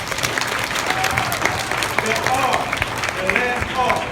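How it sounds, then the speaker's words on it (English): A school audience at a Beta Club induction ceremony claps together in a steady round of applause, dense and continuous at moderate loudness throughout, with scattered cheering voices mixed in. "Give yourself a round of applause."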